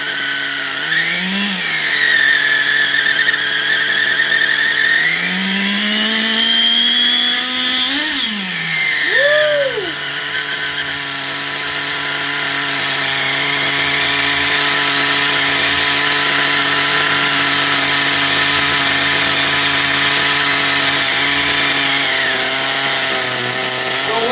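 Small nitro engine of an XTM Baja Outlaw RC truck running after repair, a loud, buzzing whine that revs up in sharp bursts near the start, then settles into a steady, high idle.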